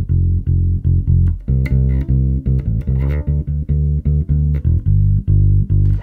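Bass guitar playing the two-bar chorus pattern from a song, a steady run of loud, sustained low notes with short slides, played alone without talk.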